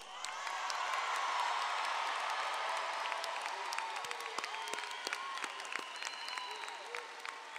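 A large crowd at the Del Valle High School 2023 graduation applauds the graduating class, a dense, loud wash of clapping with scattered whoops and cheers that thins out toward the end.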